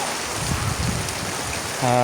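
Heavy typhoon rain pours near a swollen, rising river, a steady broadband rushing wash throughout, with a low humming tone joining in the final moments.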